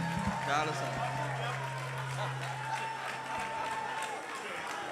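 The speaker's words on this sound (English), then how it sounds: "Please give him a round of applause once again." Audience applause for the President General of Ohaneze Ndigbo after his welcome address, a steady wash of clapping from a crowd with a low sustained hum and talk running underneath throughout.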